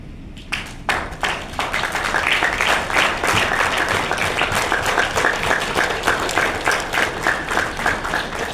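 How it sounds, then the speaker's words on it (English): Network marketing seminar audience clapping together, a dense, steady wash of many hands that swells early and holds loud and continuous throughout. "Either you give a full clap or a no clap."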